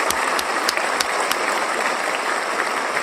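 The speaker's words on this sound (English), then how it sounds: "Let's give ourselves a round of applause." A crowd inside a building gives a full round of applause, dense continuous clapping with a few sharper claps standing out near the front, steady and fairly loud throughout.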